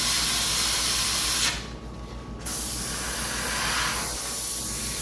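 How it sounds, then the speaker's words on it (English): An airbrush sprays paint onto model rivets on a metallic surface with a steady close hiss. The hiss stops for about a second, then resumes. "So I'm concentrating my spray just on the top."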